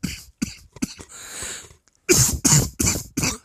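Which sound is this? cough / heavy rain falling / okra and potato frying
cough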